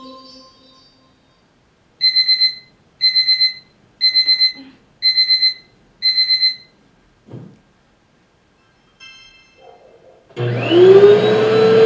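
An alarm clock beeps in five evenly spaced bursts of rapid electronic tones, loud and close, followed by quiet clatter and then a loud whirring motor.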